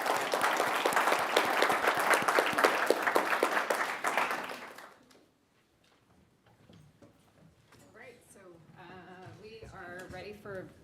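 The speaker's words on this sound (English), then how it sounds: "I just want to give a round of applause and thanks to our panelists" A policy forum audience applauds the panelists after a Social Security discussion, the clapping full for several seconds before dying away into quiet, followed by a voice speaking.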